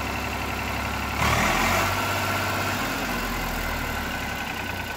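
Eicher 485 DI tractor, a 2012 model, with its diesel engine idling steadily, then briefly revved for a short burst before settling back to a loud, close idle.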